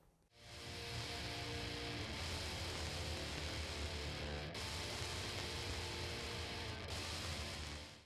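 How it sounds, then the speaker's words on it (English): Out-of-phase playback from a Cloudlifter X mic activator, with transformer saturation heard as a dense, steady fizzing hiss and crackle, broken by a couple of brief dropouts. "that kind of fizzing and popping and crackling, that's the transformer in here saturating"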